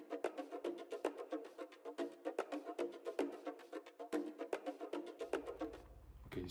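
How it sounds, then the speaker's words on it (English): A beat, a steady run of bright percussive hits drenched in default reverb and a stereo-widening chorus, plays alone until a low sustained tone takes over at the end. "Then I also added a chorus to try and widen the sound,"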